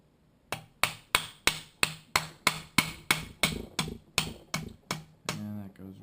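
A hammer taps a pin into a DPMS LR-308 rifle's trigger assembly in a steady series of about fifteen sharp, close strikes, evenly spaced, ending with a softer, ringing knock.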